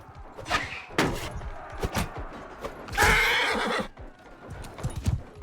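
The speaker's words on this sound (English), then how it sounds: "Do not want the horse to go down." Horses in mounted combat in Mount and Blade Bannerlord let out loud whinnies over uneven galloping hoof clops and thuds, one long neigh standing out midway.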